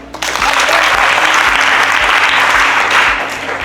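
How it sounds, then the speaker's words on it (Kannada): Government school students clap together in a classroom, loud, steady applause from a nearby group lasting several seconds and easing slightly at the end. "Very good. ಚಪ್ಪಾಳೆ."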